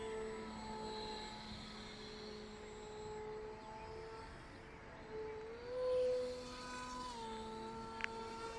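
A Coocoroo annular-wing RC model aircraft on a 3-cell battery flies on a calm day, its electric motor and propeller giving a steady buzzing whine that rises and falls slightly as it passes, with no talking.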